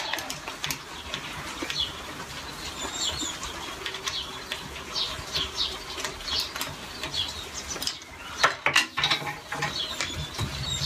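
The clamp on a water-fed window cleaning pole is loosened with a run of close, rapid ratcheting clicks and plastic creaks, followed by a few louder knocks near the end.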